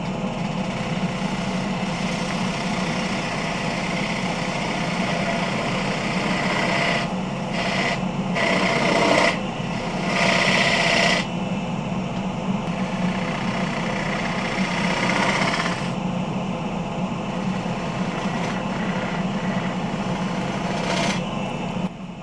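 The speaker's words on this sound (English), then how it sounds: "I switched to a 1/2-inch spindle gouge to finish the dovetail tenon" A wood lathe spins a punky wet spalted alder bowl as a 1/2-inch spindle gouge cuts the dovetail tenon, a steady motor hum under continuous scraping and rasping, with brief louder bursts of cutting now and then.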